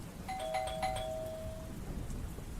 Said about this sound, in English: A minute later, though, the doorbell rang again.